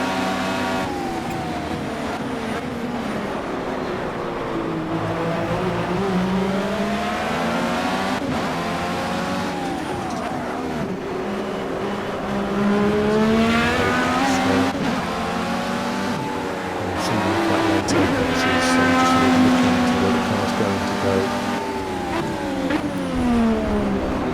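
A Dallara DW12 race car in the Project Cars video game at Road America accelerates hard through the gears, its high engine whine rising and dropping with each shift, loud and continuous with no talk over it.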